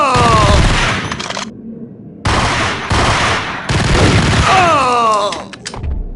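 Loud, dense gunfire rattles in a Max Payne shootout, coming in long sustained bursts broken by sudden short gaps, with shouting voices mixed in and a heavy thump near the end.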